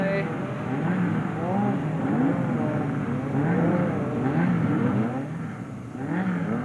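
Several Buggy 1600 autocross race cars at a 1994 European Championship round in Žitavany, engines droning and rising and falling together at a steady mid distance, with a commentator talking over them throughout.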